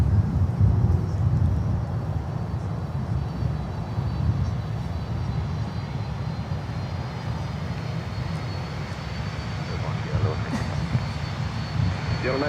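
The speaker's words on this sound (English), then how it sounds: "Latam Cargo coming up next, and then El Al Dreamliner." Jet airliner, a Latam Cargo freighter or El Al Dreamliner, at Miami airport, a steady distant engine roar rumbling throughout, with people talking faintly in the background.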